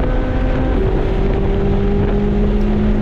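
Corvette C8 Z06 on track at Willow Springs, taking turn nine. The engine hums loud and steady and shifts pitch once early as the car carries speed through the corner, with wind rush over it and no speech.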